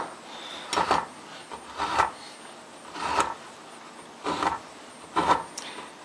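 A knife slices through a lava cake in a forward sawing motion, making five evenly spaced soft, rasping strokes with brief quiet gaps between them, close and fairly faint.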